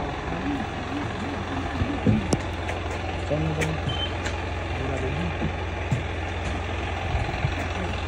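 A bus pulls up at a stop, its low engine rumble and idling drone steady throughout, with brief clanks and a faint beep over background chatter from people waiting nearby.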